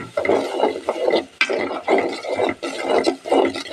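A spoon stirring a vegetable and spice mixture in a pan on the stove, producing repeated scraping, rubbing strokes in a loose rhythm, close and fairly loud with no talking.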